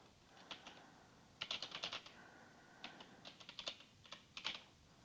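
Typing on a computer keyboard during a software installation, with soft clicky keystrokes arriving in short irregular bursts and small clusters, fairly close and quiet, with no talk.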